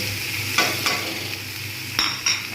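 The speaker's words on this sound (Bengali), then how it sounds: "আমি আবার নাড়তে থাকবো ভালোভাবে নাড়ব" Spices stirred in a frying pan for egg kalia: a constant low sizzle broken by four or five distinct scraping strokes of a spoon, close up and with nobody speaking.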